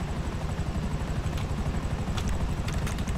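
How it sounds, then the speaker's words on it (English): Helicopter rotor and engine noise from the video game GTA 5 Online, a loud continuous throbbing beat with a rumbling low end that stays steady and close throughout, with no speech over it. "Okay, what if I call in another helicopter?"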